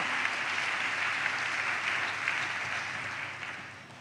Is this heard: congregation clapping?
yes